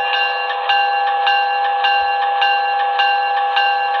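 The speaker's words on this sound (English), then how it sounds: "Okay, here is the bell." A model train sound decoder plays a locomotive bell, a steady electronic ringing with regular strikes about every half second, clean and continuous with no voices.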